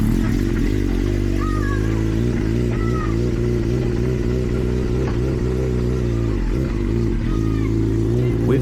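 BSB superbike heading out on track at Cadwell Park for an outlap, a steady droning engine with harmonic tones that hold and shift slightly, heard continuously with faint voices in the background.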